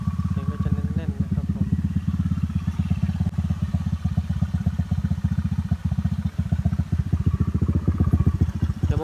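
Honda Click 125 motorcycle fitted with a 58mm piston and PCX 150 cylinder, its engine running steadily and loud up close, idling with a deep, dense pulse and rising into revs toward the end.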